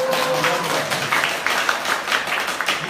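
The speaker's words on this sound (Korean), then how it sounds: "박수 쳐드려요" Applause from a lecture audience, a steady wash of many hands clapping for about three seconds, fairly loud and dense with no talk over it.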